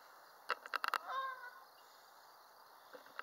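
Geese out in a park give a few short honks in a quick cluster, then a drawn-out call, fairly distant and quiet against a faint outdoor hum.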